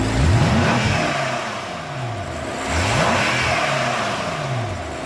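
A BMW M5's 4.4-liter twin-turbo, twin-scroll V8 rated at 560 horsepower revs repeatedly, each blip rising and falling in pitch in a steady rhythm, loud and close, with no talking over it.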